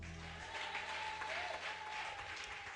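A church congregation applauds and cheers for Jesus during a service, a brief steady burst of clapping from the crowd. The sound is moderately faint and diffuse, as in a large room.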